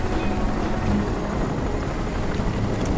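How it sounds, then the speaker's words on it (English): A helicopter in Crysis pursues the player, its steady rotor and engine roar forming a loud, continuous rumble with no talking over it. "Freaking helicopter chasing after us."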